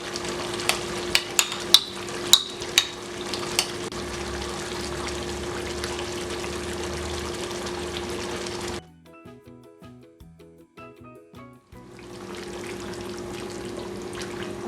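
Beef korma with onion paste, red chilli and korma masala sizzles steadily in a pan while being stirred, with a few sharp clinks early on, then a brief quieter stretch before the sizzling returns.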